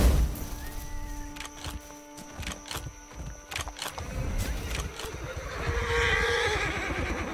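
A horse in the Roblox video game whinnies in a shrill, wavering call, followed by rustling and clattering noises and a fainter second whinny near the end.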